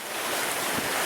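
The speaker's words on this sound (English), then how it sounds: "Here's the hail." Pea-size hail falls during a tornado warning storm while driving, a dense, steady hiss of hailstones and rain pelting the vehicle, loud and continuous.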